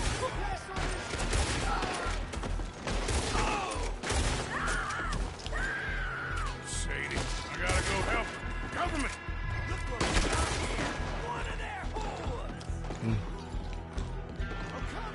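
Gunfire in the video game Red Dead Redemption 2, with a rapid scattered volley of shots and impacts over busy game sound, steady and moderately loud throughout.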